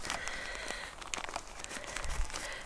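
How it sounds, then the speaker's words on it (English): Plastic crinkles and rustles up close in quick, irregular bursts, with no talking. "We've got another plastic bag here."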